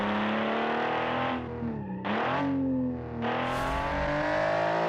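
A race car in an autocross video game runs with a buzzy, high-revving engine whose pitch dips and climbs across several gear changes, with brief tire squeal between shifts and no talking.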